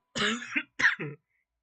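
A single sneeze, a sharp two-part burst close to the mic, followed by quiet.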